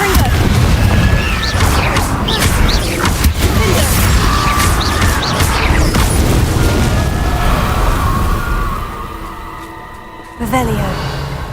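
In Hogwarts Legacy, a Confringo fire spell explodes in a loud, sustained burst of crashes and rumble with scattered impact noises. It dips briefly and then resumes with a fresh hit.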